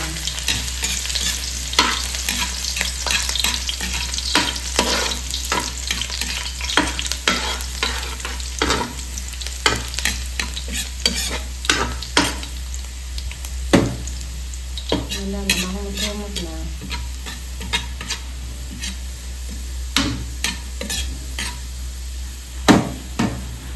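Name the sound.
sautéing garlic, onion and bell pepper in a pan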